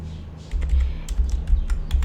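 Close, fairly loud computer keyboard typing, a brief run of quick key taps over a low hum, with no speech.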